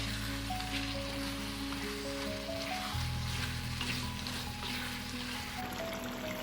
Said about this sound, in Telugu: ఇప్పుడు కాస్త కరివేపాకు, చీరికలు తీసిన 4 పచ్చిమిరపకాయలు వేసి కలపాలి